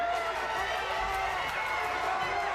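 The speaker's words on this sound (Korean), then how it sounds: "환호하는 대구 관중들." At a youth ice hockey tournament, Daegu supporters cheer in a continuous roar of crowd noise that holds steady and loud throughout, with a voice talking over it.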